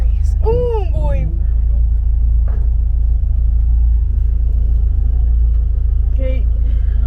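A 1965 Volkswagen 21-window bus rolls slowly downhill, its engine a steady, loud low rumble through the whole stretch. Voices are heard over it inside the cabin.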